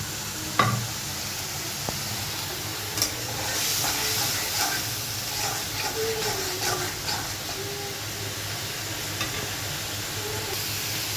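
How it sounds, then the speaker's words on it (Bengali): Shrimp sizzles and fries in a pan of spiced masala while being stirred, a steady close hiss with scraping clinks and bursts of spatter throughout, no voices. "এবার মশলাটাকে বেশ ভালোভাবে কষাবো যে ধুয়ে রাখা চিংড়ি মাছ"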